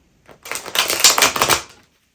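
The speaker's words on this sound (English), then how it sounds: "I need to shuffle properly." Tarot cards are shuffled in one quick riffle, a rapid flutter of crisp slapping clicks lasting about a second and a half, close and clear.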